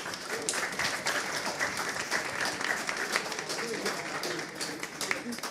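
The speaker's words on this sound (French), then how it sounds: "On peut encore les applaudir." An audience applauds at a biodiversity gathering in Quebec, sustained mid-distance clapping with scattered louder claps and some crowd voices mixed in.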